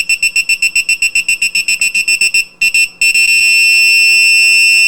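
A piezo buzzer driven by an ultrasonic distance sensor beeps in a quick, even train of sharp high tones as an object comes within about 30 cm, then briefly drops out and returns as one continuous tone.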